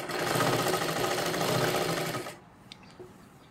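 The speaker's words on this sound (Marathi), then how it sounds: "इथे आपण वरून शिलाई करत आलो, इथे बंद करून घेतली" Sewing machine stitching a kurti top runs in a steady, loud close-up whir for about two seconds, then stops abruptly, leaving only faint room noise and a small click.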